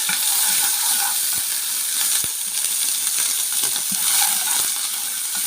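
Garlic fries in oil as a tasha for green fava beans, a bright, steady sizzle with crackling spits and a few sharp clicks, close and constant, with no talking.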